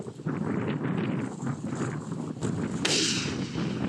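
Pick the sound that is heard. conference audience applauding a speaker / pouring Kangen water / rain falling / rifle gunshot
rifle gunshot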